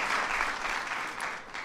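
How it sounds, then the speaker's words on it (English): An audience at the White House breaks into brief applause. A soft wash of clapping lasts under two seconds at a fairly low level. "I want to give her a round of applause, Paulette."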